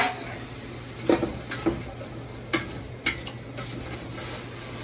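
Vegetables sweating in a soup pot for a vegan bean soup give a soft, low sizzle, broken by several clear scrapes and knocks of stirring against the pot.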